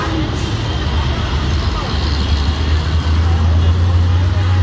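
Road traffic rumbles along the Dhaka-Chittagong highway at Rayerbagh, a loud continuous roar of cars, buses and trucks with a deep engine drone building near the end, recorded close to the lanes.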